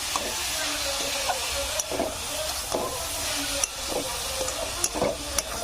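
A mixture with cardamom and salt being stirred in a pan for a Bengali banana-leaf pitha, a steady hiss of steam broken by repeated scraping strokes of a spoon at a slow, regular pace.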